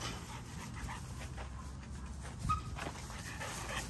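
XL American Bully puppies play rough, letting out scattered barks, yips, whimpers and panting at a fairly low level, with one sharper bark standing out midway.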